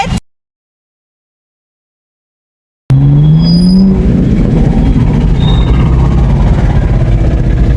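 BMW M4 car driving past on a road, a loud engine sweep rising in pitch after a dropout, followed by steady traffic and road noise.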